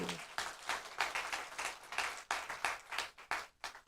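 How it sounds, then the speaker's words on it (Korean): A church congregation at a Sunday service applauds newlyweds, producing fairly quiet, uneven rhythmic clapping from a modest group that swells and fades over a few seconds. "우리 박수 한번 하십시다"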